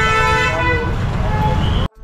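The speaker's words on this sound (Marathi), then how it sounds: "ट्रॅफिक इतकं झालंय ना की आता चालत जावं लागतं आम्हाला." Busy road traffic at night in Lonavala, with car horns tooting in loud, sustained blasts close by over a constant rumble of engines, and voices mixed in before the noise cuts off abruptly near the end.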